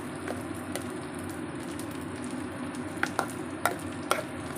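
Green pea paste being fried in a pan, with a steady soft sizzle and a few sharp scraping clicks near the end as it is stirred; no talking.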